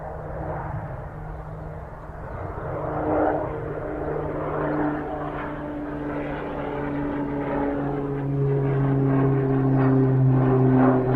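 An Eastern Airlines airliner takes off at Manchester Airport, a continuous distant engine roar with a steady low drone that swells and grows louder toward the end.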